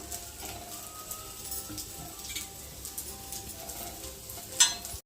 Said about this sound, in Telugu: పొంగనాలు అయితే తిప్పిన కదా, నూనె అయితే వేసుకుందాము